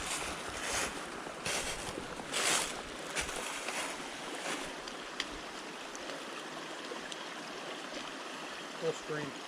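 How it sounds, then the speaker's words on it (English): A full mountain stream in Cataloochee in the Great Smoky Mountains runs with small waterfalls nearby, giving a steady, moderately quiet wash of flowing water with a few brief louder splashes. "Full stream."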